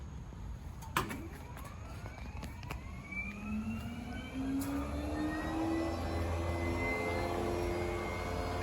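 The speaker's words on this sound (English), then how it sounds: "That's the sound of one fan on." An electric cooling fan on a Hino 195 electric truck fitted with a SEAdrive 120a whirs steadily, its whine rising in pitch as it spins up, with a few sharp clicks early on.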